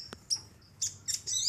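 A captive sunbird (konin) from Cianjur, West Java, gives several short, high, thin chirps and twitters in quick bursts, fairly faint and close, with no other sounds around.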